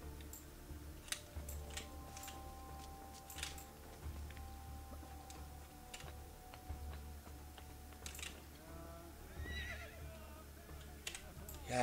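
A horse in the video game Assassin's Creed 2 whinnies, with several neighing calls over a quiet game ambience with soft clicks and faint hoof-like taps, no speech.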